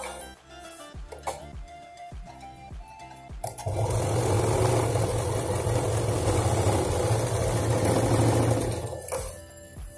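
A sewing machine stitches a purse lining. It starts with a few faint clicks and handling noises, then runs in a steady, close, humming burst of about five seconds before stopping.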